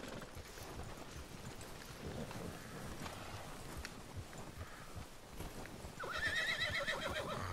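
A horse in Red Dead Redemption 2 clip-clops along steadily, then lets out a loud, clear neigh near the end over the game's ambient background.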